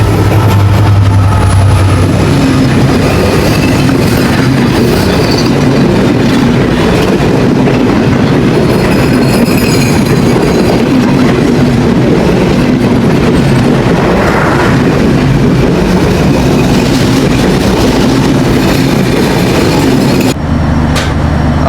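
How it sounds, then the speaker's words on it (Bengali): The Nil Sagar Express, bound for Dhaka, passes close by on a crossing track at Pirganj station before dawn. It makes a loud, sustained rumble with rhythmic clickety-clack of wheels on rails that runs the whole length and cuts off abruptly at the end. "আমাদের এখন ক্রসিং করছে নীল সাগর এক্সপ্রেস ঢাকাগামী"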